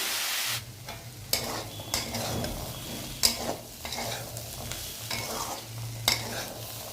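Chickpeas frying and being stirred in a pan, a steady sizzle broken by repeated scraping strokes and light clinks of the spoon against the pan, close and continuous with no talking.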